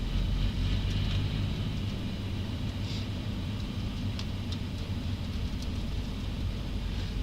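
A manual-transmission car pulls away in second gear with a steady, close engine drone and road rumble that hold an even level throughout.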